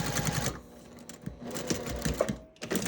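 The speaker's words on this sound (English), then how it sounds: "I'm going to sew right to the bottom edge of the bag itself" A sewing machine runs along the bottom edge of a quilted gift bag, a quiet, fast rattling stitch that continues evenly for a few seconds close by.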